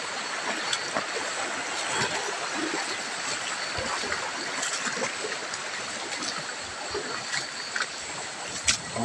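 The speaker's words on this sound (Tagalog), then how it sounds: "Lapit ng lumakas yung tubig." A strong stream or river rushing along, its water noise a dense, steady wash that stays loud and close throughout with no pauses.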